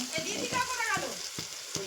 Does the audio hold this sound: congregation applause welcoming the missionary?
no